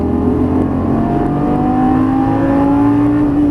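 A Lamborghini Gallardo Superleggera LP570-4 engine under light throttle, a loud, close, sustained drone whose pitch climbs smoothly and steadily throughout with no break.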